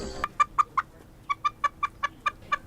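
A chicken clucks nearby in a quick series of short, rhythmic notes, pausing briefly before continuing.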